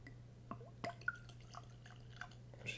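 A whiskey sample is poured from a bottle, giving a few soft, scattered drips and small splashes over a steady low hum, with no talking.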